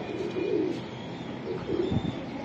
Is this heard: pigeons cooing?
yes